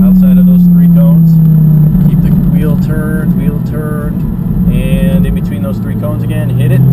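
A Lamborghini on a cone-marked track, its engine droning loudly and rising and falling in pitch under throttle, close by, while an instructor's voice talks over it throughout.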